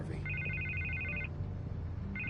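A telephone rings in the Batman Telltale video game, a steady trilling bell in two bursts with a short pause between them, over a low background hum.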